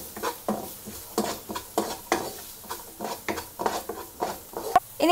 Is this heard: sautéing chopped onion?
yes